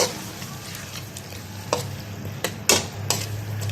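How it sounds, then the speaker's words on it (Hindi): Mixed vegetable masala with turmeric and salt is sautéed in a pan, a soft continuous sizzle broken by a few sharp spoon scrapes and knocks against the pan. "अब हम इसको अच्छे तरीके से भूनते हैं 1 मिनट के लिए, ताकि हमारा मसाला अच्छे तरीके से रेडी हो जाए।"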